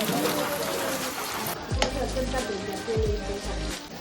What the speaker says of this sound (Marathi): आता मी वरण फोडणीला घातलं आहे